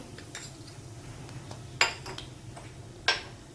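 Metal spoon scraping and clinking in a pan while stirring spices (asafoetida, goda masala, cumin powder) for palak paneer, a few sharp clinks standing out from a steady low sizzle and clatter, close and fairly quiet.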